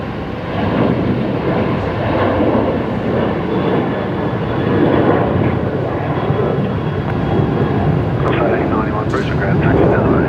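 A Velocity airliner departing Brisbane Airport for Sydney gives off a steady, broad jet roar that holds at one loudness throughout, heard from a distance with people talking over it.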